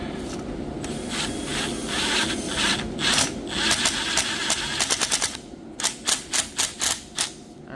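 A power driver sinks 1 1/4 inch fine-thread screws to join clamped kitchen cabinet pieces. A long, close, loud whirring run is followed by a string of short, evenly spaced motor bursts, with no talking.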